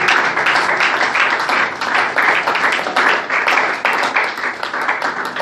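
A church congregation breaks into sustained applause, dense overlapping clapping filling the room in steady waves with no pause, loud and close throughout.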